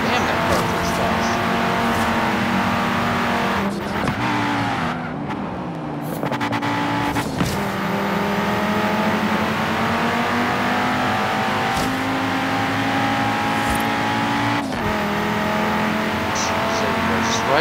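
A car racing fast in a video game, its engine a continuous high-revving drone that shifts pitch through gear changes, with a few brief dropouts and a voice talking over it.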